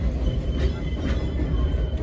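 Tourist train at Silver Dollar City rolling toward its depot, giving a continuous low, rumbling clatter of wheels and cars with faint squeaks, close and steady throughout.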